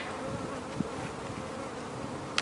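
Honeybees in a hive on a warm day, a dense continuous hum of many wings at close range, steady and fairly soft.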